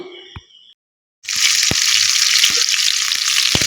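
Curry leaves sautéing for thuvayal start up suddenly after a brief silence, giving a loud steady hiss of frying with a few sharp taps of the spatula.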